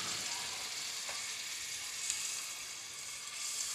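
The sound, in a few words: minced meat frying with garlic and ginger in pan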